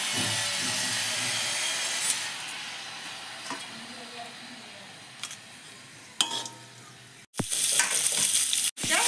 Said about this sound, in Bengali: এবার তেলটাতে তেজপাতা আর শুকনো লঙ্কা দিয়ে দেবো।